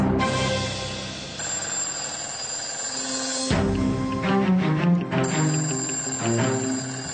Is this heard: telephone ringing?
yes